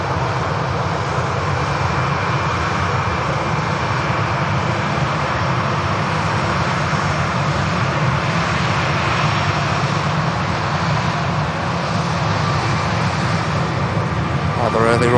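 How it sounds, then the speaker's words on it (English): A Pegasus airliner on its takeoff roll at Manchester Airport, a steady, loud jet engine roar building across the runway with a broad rushing hiss, and a voice speaking over it. "Pegasus on the departure roll now."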